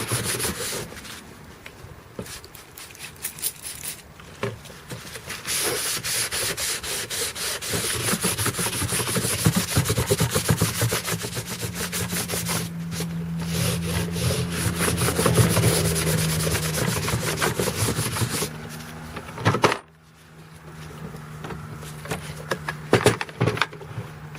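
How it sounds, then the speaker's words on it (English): A cloth soaked in lacquer thinner wipes steadily across the plastic of a Milwaukee 20-inch jobsite organizer, a close, continuous rubbing with a few short breaks. "I'm putting lacquer thinner on here. Clean the back side off."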